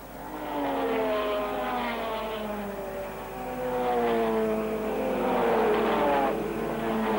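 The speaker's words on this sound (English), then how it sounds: "Flockhart led from Wharton in the wonderful 16-cylinder BRMs" Sixteen-cylinder BRM and Maserati racing cars at a 1953 race give a continuous high engine scream heard from a distance, with rising and falling pitch as the cars pass and no voices over it.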